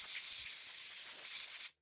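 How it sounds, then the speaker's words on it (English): A steady, loud hiss of compressed air blowing leftover gasket debris off the top of a Simplex steam locomotive's steam chest, one continuous close blast that cuts off abruptly. "A bit more compressed air"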